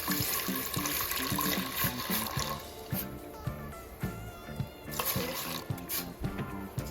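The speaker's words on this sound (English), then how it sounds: "Here I'm pouring the vinegar in the pot." Vinegar poured into a pot on a stove for Jamaican escovitch pickled pepper sauce, a steady liquid splashing and trickling that runs continuously throughout, fairly close, with no talking.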